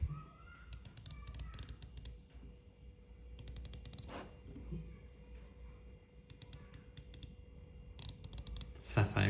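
The rotating bezel of a Doxa Sub 300T Aquamarine watch turns in bursts of rapid, crisp ratcheting clicks, close up, with brief pauses between runs and faint voice in the background.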